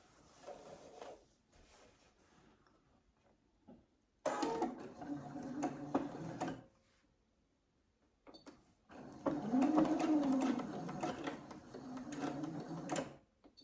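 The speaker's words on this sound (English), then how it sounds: "you're going to just sew up here on the shoulder." A sewing machine stitches the shoulder seam of a dress in two separate runs of steady mechanical whirring and ticking, quiet and close, with pauses between.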